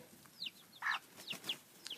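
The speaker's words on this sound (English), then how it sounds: "That rooster back here that's not in the cage" Chickens in a backyard coop give short bursts of clucking and chirping, fairly close, with one louder squawk in the middle and no talk.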